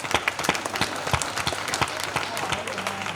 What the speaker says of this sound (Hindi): एक बार जोरदार ताली बजाओ सारे लोग